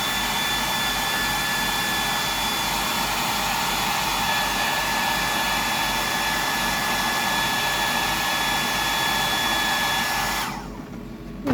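A hair dryer blows steadily, drying fresh paint on a deep-diving bass fishing lure, a loud continuous whoosh that cuts off near the end.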